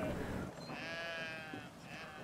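Sheep bleat in the video game Brothers: A Tale of Two Sons, a drawn-out wavering cry over steady game ambience, followed by a shorter fainter bleat near the end.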